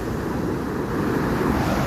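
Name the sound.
sea waves surging onto shore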